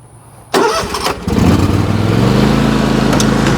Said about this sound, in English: Lawnmower on, mowing.